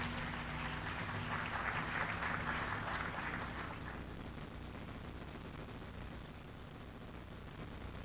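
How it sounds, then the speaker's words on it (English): A large crowd of guests at a formal Ghanaian excellence awards ceremony claps in sustained applause, dense and full for about four seconds before easing to a steadier, softer patter. "Can we do a bigger round of applause for him"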